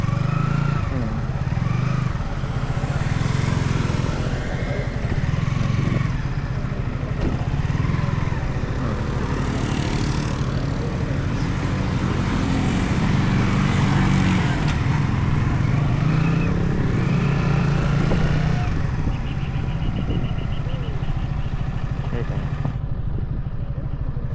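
A motorcycle engine runs steadily and close for the whole stretch, a continuous low rumble with slight revving while people talk over it outdoors.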